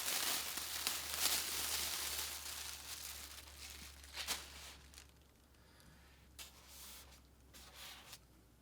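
A plastic bag is handled and crinkled in bursts of rustling that come close and fairly quiet, then turn sparser and fainter toward the end, with no voices.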